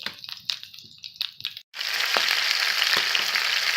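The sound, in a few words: heart, liver and chopped gizzard popping as they fry on a box stove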